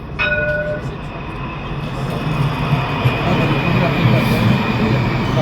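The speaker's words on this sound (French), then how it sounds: "Il est là-bas le tramway du Sargon" Alstom tram passing on its rails at Hauts du Chazal, a steady loud rumble and rolling rail noise with a brief high ringing tone at the start, growing slightly louder as it goes.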